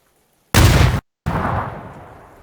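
PUBG grenade airburst explosion, a sudden loud boom that cuts off abruptly, then after a brief gap a second blast with a long, fading rumble.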